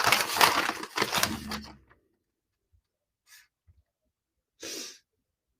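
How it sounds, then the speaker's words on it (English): A single sneeze bursts out at close range after a stretch of talk, followed by a few faint soft breaths and a brief second puff of breath later. "What happens when you sneeze?"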